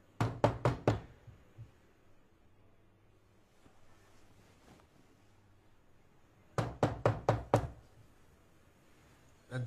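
Rapid knocking on a door in two bursts of about five sharp raps each, separated by several seconds of quiet background hiss, close and fairly loud.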